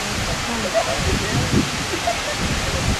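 Steady rushing water from Fall Creek Falls, a broad constant roar with faint voices murmuring underneath.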